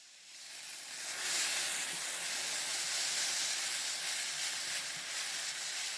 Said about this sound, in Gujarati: અનિયનને સોતે કરીશું